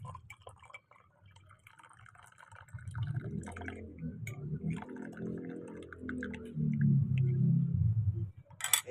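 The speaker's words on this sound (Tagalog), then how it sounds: "Lilipat ko muna yung tubig dito sa isang baso." Water poured from a container into a glass while preparing garlic water with kalamansi, a soft trickling pour that builds and grows steadier and fuller toward the end, close by in a quiet kitchen.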